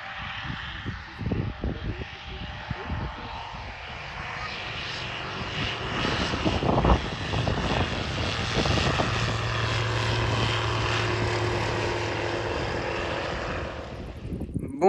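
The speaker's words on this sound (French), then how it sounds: "Et là je vais vous filmer le décollage de cet avion quoi." A propeller airplane engine roars steadily, building in power as it takes off, loud and continuous for the whole stretch.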